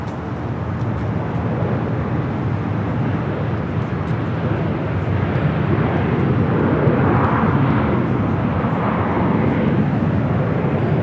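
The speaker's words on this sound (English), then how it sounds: "Aeromexico 785 taking off to Guadalajara. 737-800." An Aeromexico Boeing 737-800 airliner takes off at LAX with a loud, sustained jet roar that holds steady and swells slightly over several seconds, heard from the airport side with no talk.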